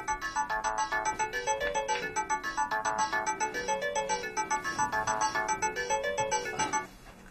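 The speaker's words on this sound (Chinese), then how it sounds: "你电话，我帮你拿吧" A mobile phone ringtone plays loud and close, a bright repeating electronic melody in a fast steady pulse that cuts off just before the end.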